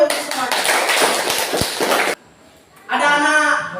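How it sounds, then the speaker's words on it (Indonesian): Classroom applause from a group of students, a dense burst of clapping for about two seconds that cuts off abruptly, followed after a short pause by a brief mixed sound of voices and clatter. "Tepuk tangan dulu semuanya"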